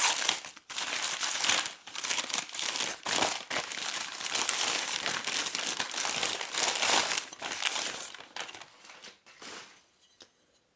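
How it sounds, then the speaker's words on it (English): Packaging paper and wrapping crinkle and crumple as a Le Creuset stoneware butter dish is unwrapped by hand, close and loud in irregular bursts with short pauses. "continue to unwrap or unpack the base or dish of the butter dish"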